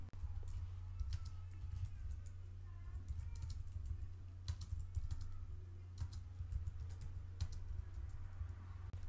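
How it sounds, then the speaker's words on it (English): Typing on a computer keyboard, a quick, uneven run of crisp key clicks close by, with a low steady hum underneath and a person speaking in between. "If you want to create a text box, you need to click and drag, and then if you start typing"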